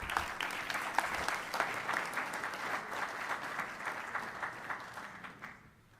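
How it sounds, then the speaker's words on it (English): A crowd at a civic press event in Philadelphia applauds as a pastor comes forward to speak, a broad wash of clapping at moderate distance that rolls on for several seconds before tapering away. "Give Pastor Mason a huge round of applause as he comes forward."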